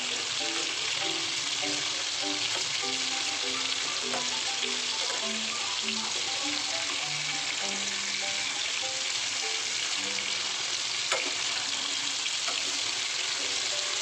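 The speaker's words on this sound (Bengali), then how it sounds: "এটাকে আমি লো ফ্লেমে ভেজে নিচ্ছি ভালো করে।" Chicken bhuna masala fries gently in a pan over a low flame, giving a steady, even sizzle that runs throughout, with faint tonal sounds in the background.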